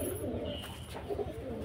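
Pigeons, male and female birds shown at a pigeon market in Beldanga, coo softly at close range, a low murmuring warble that runs steadily through the moment with no voices.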